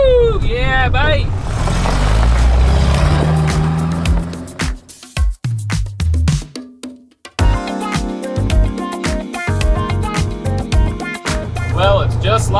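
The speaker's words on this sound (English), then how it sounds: "Listen to all the road noise" Road noise inside a moving vintage RV camper van, a loud rumbling drone with rattles and thumps, with voices talking and whooping over it.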